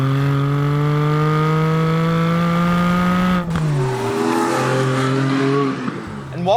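A Porsche Cayman GTS 4-litre with PDK gearbox driven hard at around 140 km/h, the flat-six engine note climbing steadily before a quick upshift drops the pitch and it pulls again, loud and close from the cabin.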